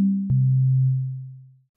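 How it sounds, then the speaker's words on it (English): An FM synth tone from a Korg opsix, two sine wave operators with one modulating the other, plays as a pure low note with a click at the start, then a steady held pitch that fades out. No other sounds are heard. "We've got two sine waves. Two is going into one."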